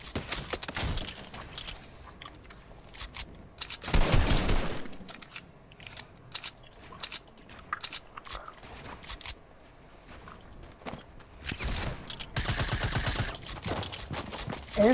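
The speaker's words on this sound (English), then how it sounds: "Oh yeah, I hear shooting over here." Gunfire crackles in a shooter video game, scattered single shots and rapid bursts at varying distances, with a couple of loud close volleys and quieter distant shooting between them.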